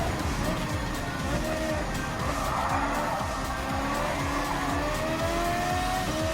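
Race car engine accelerating in Gran Turismo 7, with a Subaru BRZ GT300 on track at Watkins Glen, a steady droning engine note with rising whine and tire squeal throughout, no pauses.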